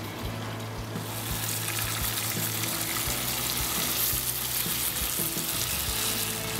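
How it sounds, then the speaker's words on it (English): Grilled tomatoes and jalapenos with garlic, herbs, salt and pepper sizzling in a pan: a loud, continuous crackling fry with scattered pops and some stirring clatter, close up and with no talking. "And let them sizzle with all the garlic and herbs and the salt and pepper."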